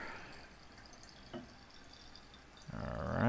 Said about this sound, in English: Next thing up is to fill the water. I use 600 milliliters of cold or room temperature water.